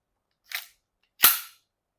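Two sharp, dry pops from a KWC Desert Eagle air pistol firing 4.5 mm steel BBs, a quieter snap followed by a louder crack about a second later, close and isolated.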